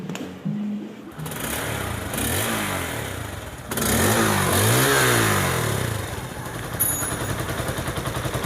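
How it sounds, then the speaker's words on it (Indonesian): A motorcycle engine idles as it warms up after running over five minutes, a steady close chugging that rises in a couple of brief revs and settles back, with no talk. "ini untuk motornya sudah saya hidupkan lebih dari 5 menit ya"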